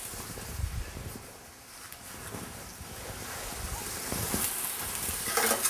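Onions sizzle and steam in a pan with a little oil and salt, a close, steady hiss broken by occasional clatter of stirring, growing slightly louder toward the end.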